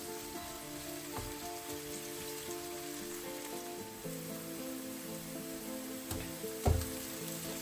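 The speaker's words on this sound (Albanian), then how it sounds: "Si fillim do të hedhim speci dhe do ta përzijem për 1 deri në 2 minuta gjithashtu bashkë me qepën." Bell pepper and onion frying in a pan, a faint, even crackling sizzle with a few scrapes of stirring, under a steady background hum.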